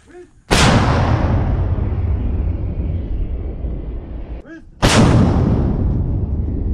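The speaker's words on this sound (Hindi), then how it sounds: "रूस ने तोपों से भी यूक्रेन के कई इलाकों पर हमले" Two heavy artillery blasts from Russian shelling in Ukraine, one near the start and one later. Each is a sudden loud boom followed by a long rolling rumble that fades slowly.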